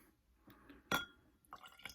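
A short burst of whisky splashing into a Glencairn glass, with a faint clink, followed by quieter trickles; close and otherwise quiet.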